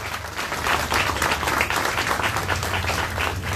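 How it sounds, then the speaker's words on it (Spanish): Loud, steady applause from a crowd at an outdoor political protest rally in Acapulco, a dense wash of clapping with a low hum beneath, sustained throughout without pause. "les mandamos un fuerte aplauso a nuestros amigos de la comunidad LGBT"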